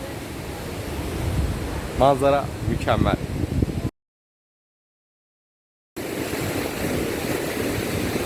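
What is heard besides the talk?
waterfall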